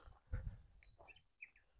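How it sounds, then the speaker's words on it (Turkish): Birds chirp faintly in open countryside farmland near Gönen, Balıkesir, a few short high calls scattered over a low rumble of wind. "kuş seslerinin içerisinde"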